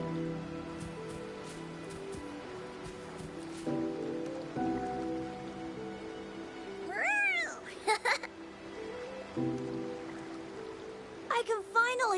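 Cat meows in the video game Wuthering Waves, a few short rising mews over steady rain-like ambience and game music, moderately close.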